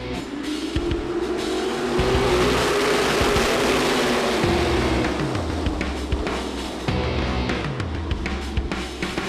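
Race cars roar down the back straightaway of a track, a loud, dense engine howl with rising and falling pitch as several cars pass close together, continuous throughout.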